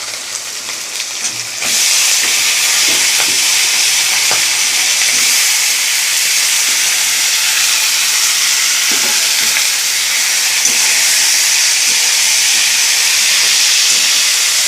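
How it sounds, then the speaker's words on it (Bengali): Small cut potato pieces drop into hot oil in a pan after fried fish and five-spice seeds, setting off a loud, steady sizzle and hiss that stays strong throughout. "এর মধ্যে আলুটা দিয়ে দেবো, কেটে রেখেছি ছোটো ছোটো করে।"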